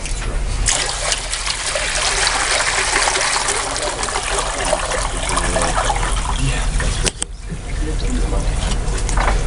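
Excess water pours and trickles out of a Gold Cube gold-mining tray for several seconds, a close, continuous splashing that breaks off briefly near the end before resuming.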